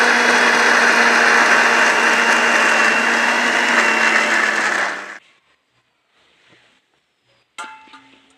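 A kitchen blender grinds soaked lentils into a thick paste with no added water, a loud, steady whirring drone for about five seconds that cuts off abruptly, followed by quiet handling clatter.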